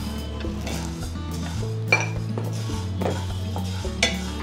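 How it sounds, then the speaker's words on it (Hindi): Dry coriander seeds roasting in a pan over low heat, with steady scraping and stirring, occasional light metallic clinks of the spoon against the pan, and no talking. "हमें स्लो ताप पे ये मसाले सेकने हैं"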